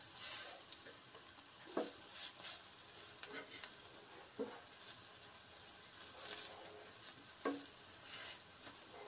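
Food frying in a pan for an iftar snack, with a steady hiss and sizzle and occasional scraping knocks as pieces are turned with a spoon, close but fairly quiet, no talk.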